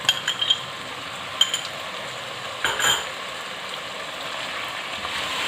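Chicken frying in a pan after ginger garlic paste is added, a soft continuous sizzle with a few light metallic clinks of a utensil against the pot and a brief stirring scrape.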